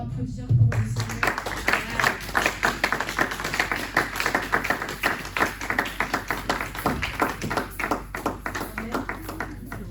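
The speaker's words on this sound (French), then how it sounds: "est-ce qu'on peut encore applaudir pour le Seigneur?" A church congregation claps along in a quick, steady rhythm, the sharp hand claps repeating evenly and moderately loud, with some voices faintly mixed in.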